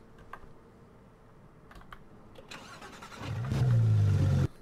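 A vehicle engine in the Roblox game Southwest Florida, first faint under keyboard typing and background game noise, then swelling into a loud, steady revving drone for about a second before cutting off abruptly.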